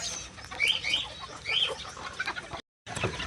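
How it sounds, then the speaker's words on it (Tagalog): Newly hatched button quail chicks peep in quick, high, bright chirps close by, overlapping in bursts, then a short silence and more peeping. "So ayan, ito na yung sisiw ng ating button quail, no?"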